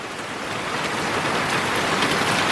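Steady outdoor rain hisses across the whole stretch as a dense, even wash of drops, close and fairly loud, with no voices, where young ducks are out playing in the wet.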